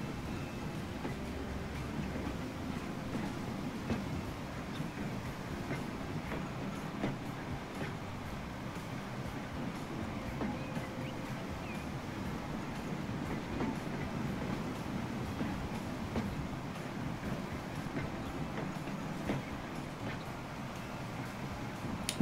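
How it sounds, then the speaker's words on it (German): A train rolls along rails in the Transport Fever video game with a steady, continuous rumble and faint rhythmic clatter. It stays at a moderate, even level throughout with no voices. "Ich finde es cool, dass man von dem Zug nur das Dach sieht, so ziemlich."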